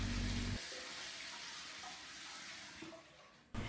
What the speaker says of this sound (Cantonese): 至於花灑呢，出水呢非常夠力啊，沖涼沖得好爽啊！